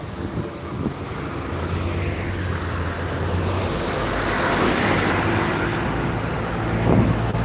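A Scania- or Volvo-built bus passes on a Gloucester street, a broad whooshing roar that builds to its peak around the middle and then eases, over steady background traffic rumble.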